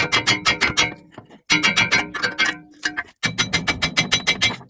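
A hammer taps repeatedly on a wheel bearing part of a Smart car. The blows come as close, loud metallic strikes in quick bursts with brief pauses between them.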